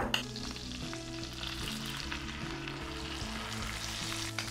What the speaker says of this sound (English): I'm gonna cook it slow in the pan, but I'm gonna cook it with a lot of butter.